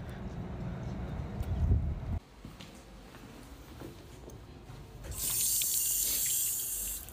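Water runs from a tap in a steady hiss that swells louder in the final seconds, following a stretch of low background rumble.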